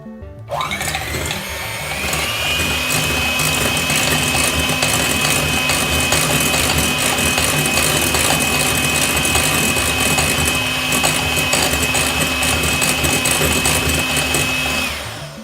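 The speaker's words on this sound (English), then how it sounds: "I'm going to be using the hand mixer to beat these egg whites until foamy" A hand mixer beats egg whites until foamy, producing a loud, continuous motor whine that starts abruptly and holds a steady pitch for the whole stretch.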